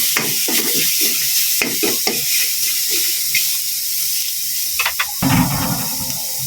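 Onions sautéing in hot oil for tocino, a close, steady sizzle and hiss with scraping stirs and clinks of a utensil against the pan, the frying growing louder near the end.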